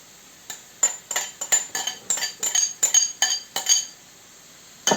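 Chopped eggs being stirred into onions in a pan, a run of about a dozen sharp metallic clinks and scrapes of a spoon against the pan in an uneven rhythm, close and loud with no talk.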